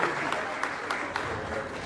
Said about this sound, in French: Je vous demande de s'applaudir très fort.